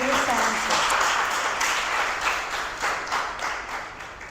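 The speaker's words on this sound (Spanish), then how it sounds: "Recibamos con un fuerte aplauso a Miguel Reyes Sánchez" Audience applause welcoming a speaker at a lecture on the history of navigation, a dense burst of crowd clapping that gradually thins and fades, with a voice over the start.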